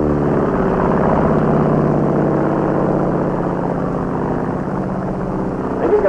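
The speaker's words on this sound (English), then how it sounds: "This is the Japanese Zero." The propeller engine of a Japanese Zero fighter plane drones loudly and steadily throughout, a thick continuous roar with no pauses.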